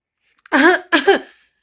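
A voice imitates a sneeze in two bursts, a breathy build-up and a sharp release, close and loud.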